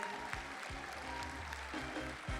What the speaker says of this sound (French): pouvez l'applaudir bien fort